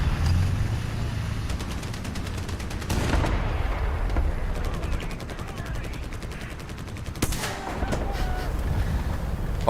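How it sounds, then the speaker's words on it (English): Enemy gunfire in the War Thunder combat game, dense sustained bursts of shots dominating throughout with heavy low rumble, a few sharper cracks standing out, and a voice briefly talking underneath. "Of course you shoot at me."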